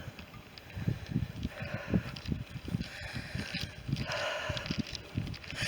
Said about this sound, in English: Of course, they have the sheep in here, they keep the grass down,